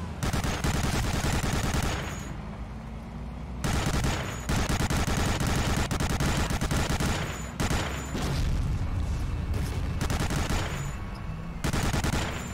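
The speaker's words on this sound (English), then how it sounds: "I've been shooting the fence." Rapid bursts of gunfire aimed at a fence in the WWII shooter Medal of Honor: Allied Assault, loud sustained machine-gun volleys broken by short pauses, with no talking.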